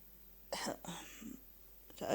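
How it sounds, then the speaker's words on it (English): A couple of short, rough coughs close to the mic, separated by a brief pause, with a breathy throaty sound following. "You heard me coughing"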